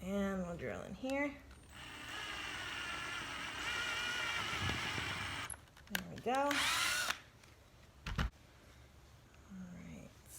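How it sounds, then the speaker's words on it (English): A power drill whirs steadily for several seconds, driving screws into a wooden stacking box, then gives a second short burst, with someone speaking briefly before and between the runs. "we'll drill in here"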